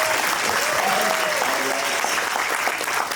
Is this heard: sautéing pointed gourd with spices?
no